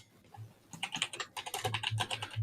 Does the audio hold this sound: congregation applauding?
no